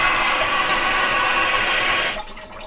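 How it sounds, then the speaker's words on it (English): Water rushes out of a home brewing vessel being drained during cleaning, a loud, steady gushing hiss that cuts off abruptly near the end, leaving a quieter trickle. "Drained the water out, not too bad, nice and clear, and I'm draining the rest out of this one."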